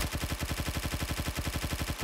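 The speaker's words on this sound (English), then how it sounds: "Next one up is the fabricated submachine gun." Fabricated submachine gun firing in the video game Ark Ascended, a rapid, steady automatic burst of evenly spaced shots that continues unbroken and loud for about two seconds with no talk.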